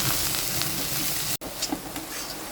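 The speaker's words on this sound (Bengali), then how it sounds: "মশলাটা একটু ভেজে নেব।" Spice paste with turmeric fries in a pan with a steady, fairly close sizzle and hiss, broken by one very brief dropout partway through and a few soft stirring scrapes.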